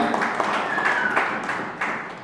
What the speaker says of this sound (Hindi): ताली बजाते हुए आमेन।